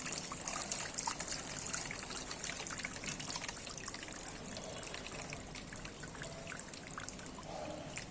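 Water trickles and dribbles steadily through an iron guard filter at home during backwash rinsing, a faint, continuous splashing stream with small bubbling irregularities, alone without speech.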